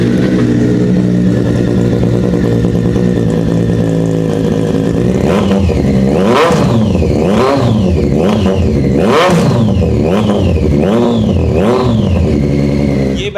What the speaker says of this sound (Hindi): इसके अंदर वैसे कस्टम एग्जॉस्ट लगा हुआ है ऑस्टिन रेसिंग का, बट साउंड चेक कराते हैं भाई,